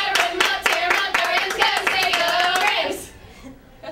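A baseball team's pre-game huddle cheer: a group claps in quick rhythmic bursts with shouted voices for about three seconds, then it fades to quiet.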